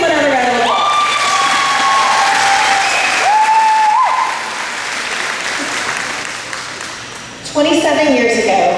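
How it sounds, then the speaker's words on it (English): Crowd applause and cheering for the graduating class of 2025 at a graduation ceremony, loud and sustained across the clip, mixed with voices and shouts, swelling again near the end. "Let's give them another round of applause."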